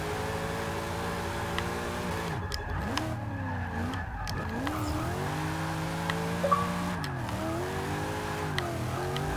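A 2002 Chevrolet Corvette Z06 with a rear-wheel-drive drift build slides through Forza 6, its engine droning and revving continuously while tires squeal steadily, close and loud with no voices.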